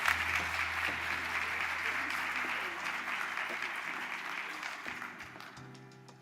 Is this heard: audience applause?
yes